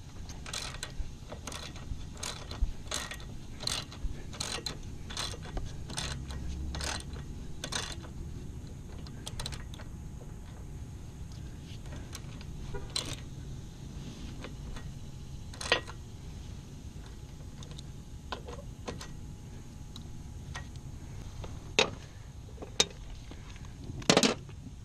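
A ratchet socket wrench driving galvanized lag bolts into a wooden trailer bunk board, giving a rapid series of sharp clicking bursts early on, then sparser isolated clicks over a steady low background hum.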